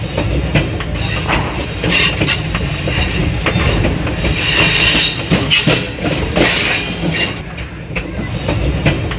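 A train travels along the railway line near Rawalpindi, Pakistan, with a loud, steady rumble of wheels on track and rhythmic clickety-clack throughout, occasional brighter rattles and squeals, and no voices.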